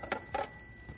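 A telephone rings in an old radio drama, with two short trilling bursts in quick succession over a steady background hum.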